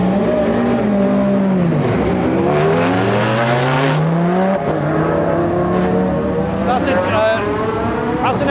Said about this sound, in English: That's an Audi R8 GT3, so that's the rear-wheel drive Audi R8, isn't it? Sounds amazing.